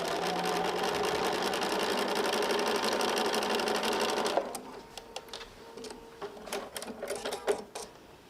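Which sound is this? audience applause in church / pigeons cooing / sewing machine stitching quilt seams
sewing machine stitching quilt seams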